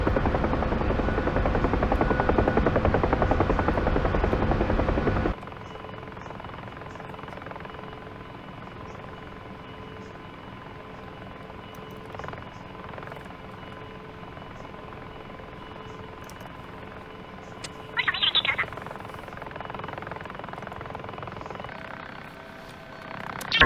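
A steady UH-1 Huey helicopter rotor drone with a low engine hum in a flight simulator game continues throughout, louder at first and then quieter, with a brief higher electronic tone partway through.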